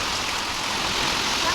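Dense, continuous hiss of heavy rain driven by strong wind near swaying coconut palms, loud and even throughout.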